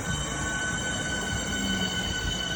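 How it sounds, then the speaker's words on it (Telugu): A train runs at a railway station in the UK with a steady loud rumble, faint squealing wheels and high tonal whine, no talking. "ఈ రైల్వే స్టేషన్ అనమాట మనం వచ్చింది స్వాన్స్ హోమ్ రైల్వే స్టేషన్"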